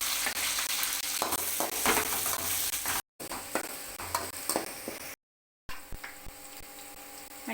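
Curry leaves, green chilies and onion fry in hot oil in a pan, a steady loud sizzle with stirring scrapes throughout, briefly cut off twice.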